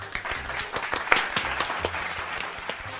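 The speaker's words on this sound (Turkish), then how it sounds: "Koca bir alkış istiyorum." A crowd applauds a league champion, with steady, dense clapping close by for the whole stretch and no voices over it.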